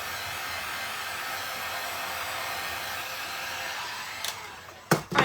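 A heat tool drying glue on a denim cuff bracelet gives a steady, fairly loud blowing hiss that holds evenly, then cuts out with a couple of brief knocks near the end.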